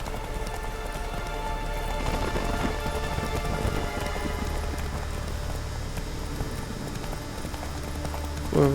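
Roach, the horse in The Witcher 3, gallops in a steady rhythmic clip-clop of hooves that carries on throughout under a dense layer of game ambience.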